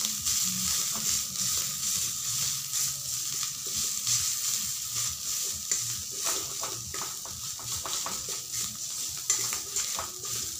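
An aloo paratha fries in a pan with butter, giving a steady sizzling hiss with repeated scraping and turning sounds at a moderate level.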